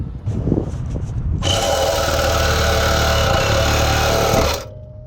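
A power saw cuts off the old exhaust on a 2006 six-speed Maxima, starting abruptly and running loud and steady for about three seconds before stopping, preceded by a few quiet clanks.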